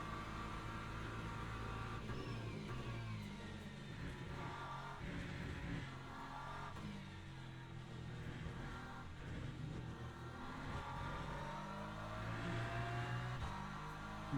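Race car engines in a racing video game with a BMW, a Lexus and a Ferrari, a steady droning roar with shifting pitch and some revving, continuous and fairly faint, no voices.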